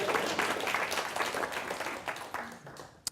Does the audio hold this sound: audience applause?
yes